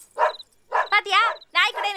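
A dog gives several short barks and yips in quick bursts, close and fairly loud, with no other sound between them.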